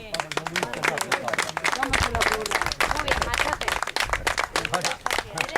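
A small group claps during an outing to a copper mine, quick irregular claps close by, mixed with casual talking.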